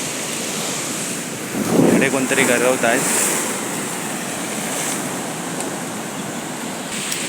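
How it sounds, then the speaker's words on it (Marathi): Sea waves breaking on the shore during rain, a steady loud roar of surf and wind noise with a brief burst of talking partway through. "आणि इकडे लाटा बिटा येत आहेत."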